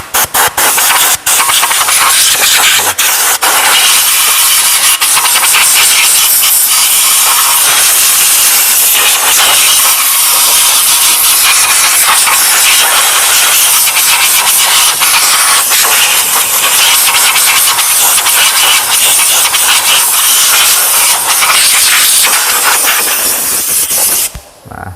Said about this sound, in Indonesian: selanjutnya kita tinggal membersihkannya dengan udara bertekanan pada disnya ya